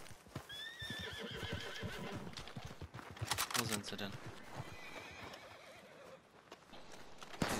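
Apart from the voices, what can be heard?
horse neighing and hooves, Red Dead Online video game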